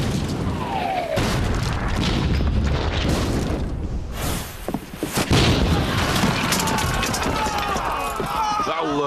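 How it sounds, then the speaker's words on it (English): A ship's cannon loaded with grape shot fires in a heavy, chaotic burst of deep booms and crackling blasts, close and loud, with voices shouting over the barrage. "Swing the cannon round this way,"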